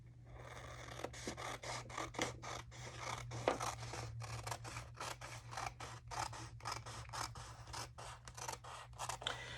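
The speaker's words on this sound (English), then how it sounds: "So let me just cut this piece that I'm going to use right now." Scissors snipping through a sheet of paper for a mini journal craft, a quick run of close, crisp cuts in uneven rhythm with brief pauses, faint and alone over a low steady hum.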